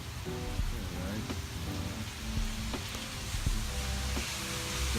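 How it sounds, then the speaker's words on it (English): Heavy rain pours down onto a road, a dense, steady hiss of drops with a few faint low thumps, continuous and close. "Beautiful heavy rain."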